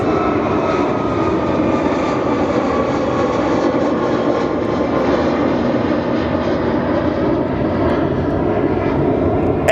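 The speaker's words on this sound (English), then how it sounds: "And plane taking off through here." A jet airliner taking off at Sky Harbor airport, heard as a loud, continuous broadband roar that holds steady for about ten seconds, with no voices over it.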